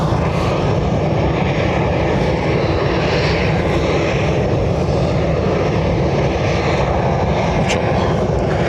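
A 12-year-old Airbus A320 from Paris Orly roars steadily at Lanzarote Airport, a loud continuous engine rumble with broadband wind-like hiss throughout, close and unbroken, with no talking.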